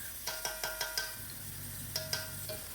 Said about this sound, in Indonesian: Ditumis-tumis bawangnya